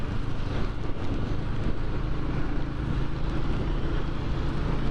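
Steady, smooth engine drone of a Royal Enfield motorcycle cruising in fifth gear on a five-speed box, a constant hum under wind noise with no change in pitch.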